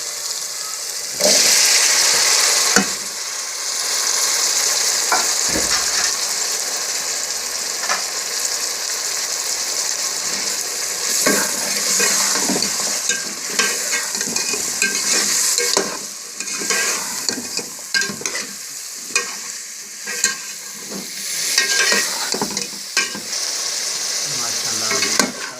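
Potatoes sizzle and fry in a tomato masala for aloo matar, a steady loud sizzle broken by scraping and clattering stirs throughout, with no talking.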